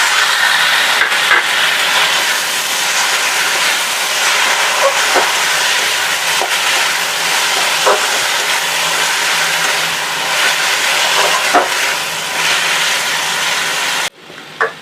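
Tomato paste sizzles in a hot pan while chili mushrooms are being cooked, a steady, loud, hissing fry that runs on its own without talk and cuts off abruptly near the end.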